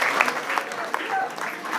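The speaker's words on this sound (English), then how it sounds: "एक बार जोरदार तालियां for the co-stars, clap boy and the heroine" Applause on a film set for the co-stars, clap boy and heroine, steady close clapping from a small group with a voice speaking over it.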